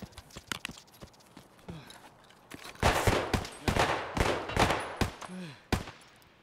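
Gunfire in the video game Escape from Tarkov: scattered single shots followed by a dense burst of rapid, sharp reports, moderately loud with no talk over them.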